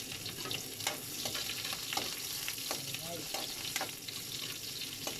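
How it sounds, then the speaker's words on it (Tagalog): Garlic and onion sautéing in a pan for a mung bean dish, a steady quiet sizzle broken by frequent sharp utensil scrapes and taps, close and without voices. "gigisa na tayo guys ng ating mga sangkap guys"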